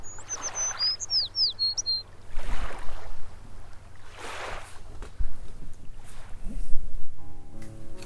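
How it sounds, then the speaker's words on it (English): A sound effect for a read-aloud children's story: a short burst of quick, high bird chirps and tweets opens, then gives way to soft whooshing swells with no talking. "The bird was building a nest, and Sylvia thought she might be able to help"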